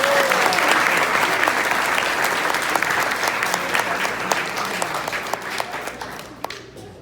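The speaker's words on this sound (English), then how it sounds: "a round of applause for him" A crowd at a grade 8 graduation awards ceremony breaks into sustained, full applause that gradually tapers off toward the end.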